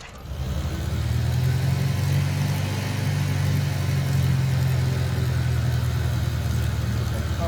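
Piper PA28 light aircraft engine cranking and catching, then settling into a steady, loud, throbbing idle heard close up, with no voices over it.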